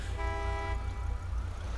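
A car horn sounds in GTA V, one steady, harmonic honk lasting about half a second over a constant low engine rumble and road noise.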